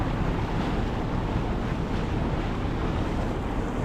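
Strong wind gusts and breaking waves surround a sailboat at anchor off Marathon during a big windstorm, a steady, dense roar of wind and water with no voices.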